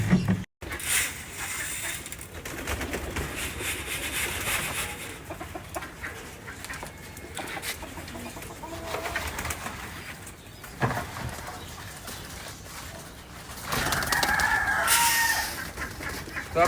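Pigeons in a pigeon loft, with a busy mix of cooing, fluttering and scuffling that rises and falls over a continuous background, close and moderately loud, with no talking.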